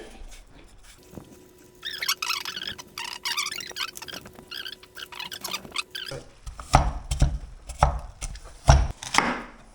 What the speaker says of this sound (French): Et on va commencer à couper le reste des pommes qui vont nous servir pour la suite.